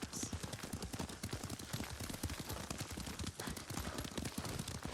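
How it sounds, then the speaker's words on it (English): Horse hooves clip-clop steadily at a riding pace in Ghost of Tsushima, a continuous rhythmic trot close by with faint background game ambience and no speech. "Lord Sakai taught me to ride a horse."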